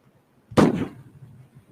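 A single sharp gunshot sound effect, loud and close, with a short reverberant tail fading into quiet.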